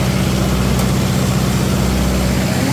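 A 65 HP tractor pulling a rotavator in low gear runs at high revs, a steady, loud, close diesel drone with a low throbbing hum and no voices.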